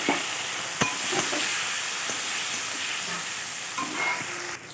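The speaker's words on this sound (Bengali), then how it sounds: "পোস্ত বাটাটা দিয়ে একটু নাড়াচাড়া করে নেবো" Fried bitter gourd being stirred with poppy seed paste in a pan, giving a steady sizzling hiss with a few soft scrapes and clinks of the spatula, fairly close and with no talking.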